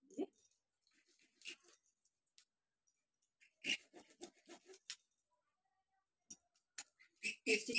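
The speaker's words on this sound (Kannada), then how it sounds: "ಮಾರ್ಕ್ ವೀಲ್ ಎತ್ಕೊಂಡು ನಾವು ನೀಟಾಗಿ ಇದನ್ನ ಮಾರ್ಕ್ ಮಾಡ್ಕೊಳ್ಳೋಣ" A tracing wheel rolls across fabric to mark stitching lines, giving soft, close, intermittent rasping and ticking bursts with quiet gaps between them.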